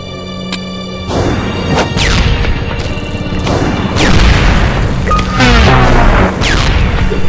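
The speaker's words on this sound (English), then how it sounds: "That's a grenade-like ability that would probably help to go flying." A grenade-like ability explodes amid a superhero battle in the Freedom Force game, with loud booms, crashes and whooshing impacts layered over continuous combat noise.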